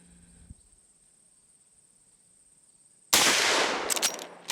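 A single loud rifle shot from a Marlin 1894 lever-action in .44 Magnum firing 240-grain rounds while plinking at jug targets outdoors, a sharp crack with a ringing tail after a quiet stretch of faint insect and ambient noise.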